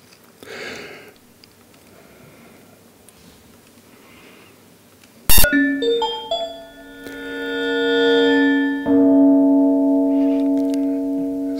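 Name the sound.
synthesized gong-like tones, opening of an electronic piece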